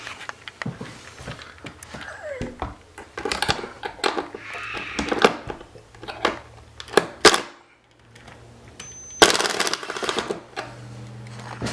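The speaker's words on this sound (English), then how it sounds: "this one's attached to 2 Phillips screws on each side. So just take those out." Two Phillips screws are taken out of the clips holding a window blind during a window replacement, giving clustered sharp clicking and rattling bursts with short whirring stretches, fairly close and loud.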